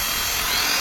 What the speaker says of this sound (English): Just ensure you hold it tight and do the drill.